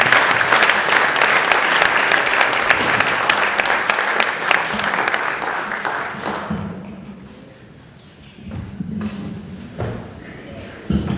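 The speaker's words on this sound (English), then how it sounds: "How about a nice round of applause for" An audience at a 2018 MLK breakfast event claps loudly and continuously for several seconds before the applause fades, leaving scattered claps and a voice speaking.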